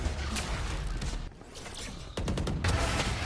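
Pistol shots ring out in a Valorant esports match at a Champions Tour grand final, coming as a dense run of sharp cracks mixed with game noise, dipping briefly before another burst of rapid fire.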